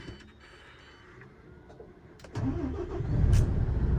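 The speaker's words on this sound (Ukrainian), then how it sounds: "Заведемо автомобіль, накачаємо повітря, піднімемо та продовжимо." A MAN dump truck converted from a tractor unit starts up: quiet background at first, then the engine cranks and catches, settling into a loud, rumbling idle close by.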